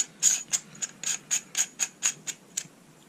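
A castle nut on a First Strike T15 buffer tube being twisted back, giving a rhythmic series of about a dozen light metallic ratcheting clicks, close and alone.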